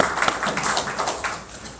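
A congregation claps together during a Korean church communion service sermon, a dense, steady patter of many hands at moderate loudness lasting a couple of seconds.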